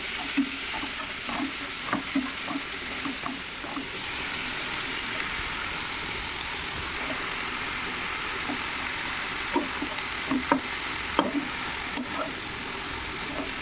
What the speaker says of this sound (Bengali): দেখো তেল ছিটে পুরো দেওয়ালে চলে গেল।